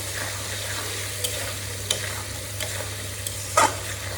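Potatoes fry in a pan with turmeric and chili powder, giving a steady close sizzle broken by occasional scraping stirs, with no one talking.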